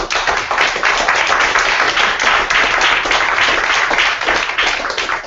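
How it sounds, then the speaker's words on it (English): Loud, sustained applause from a crowd, dense clapping filling the whole stretch without a break. "Let's give a round of applause."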